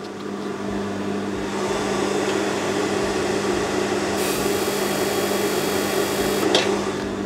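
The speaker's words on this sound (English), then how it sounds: "the clutch motor is about to move your sewing machine" A sewing machine clutch motor hums steadily and evenly with no speech, a constant mechanical whir that swells slightly louder partway through and adds brief higher whines near the end.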